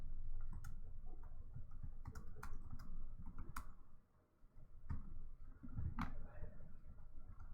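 Quiet keyboard typing of a short welcome message, irregular clicks and taps with brief pauses and a louder keystroke or two toward the end.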